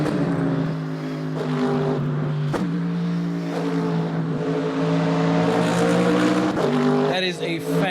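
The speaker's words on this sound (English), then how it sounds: "I can tell you right away that is a Mercedes AMG." A Mercedes AMG car engine snarls loudly nearby, its pitch rising and falling through throttle blips and revs with sharp crackles, while people talk over it.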